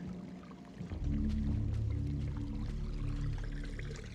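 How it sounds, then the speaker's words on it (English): Water pours in the video game Eternal Darkness, a smooth filling gurgle that swells in after a quiet second and runs steadily to the end, rising slightly in pitch as the container fills. "Fill it with water, just to make it heavier."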